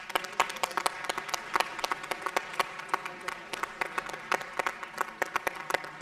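Applause in the Georgia Senate chamber for standing honorees: scattered, distinct hand claps from a modest number of people, moderately quiet, with sharp individual slaps spread evenly through the stretch.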